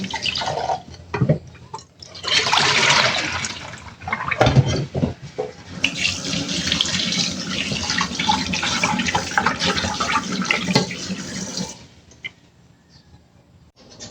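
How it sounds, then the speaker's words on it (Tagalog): Raw pork being rinsed under a running kitchen tap, a steady splashing stream of water with drips and handling noises, close and fairly loud, stopping near the end. "meron ako ditong karne ng baboy. Hugasan lang natin."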